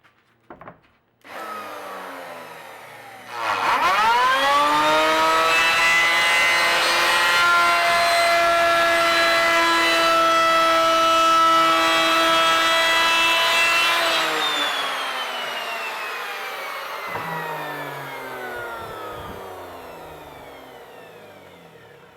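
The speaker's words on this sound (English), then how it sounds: "I'm just going to add a little chamfer around the whole set" A handheld router cuts a decorative chamfer along the edges of a wooden sim-racing pedal base built for an office chair. Its loud, steady motor whine spins up, holds for about ten seconds, then winds down alone.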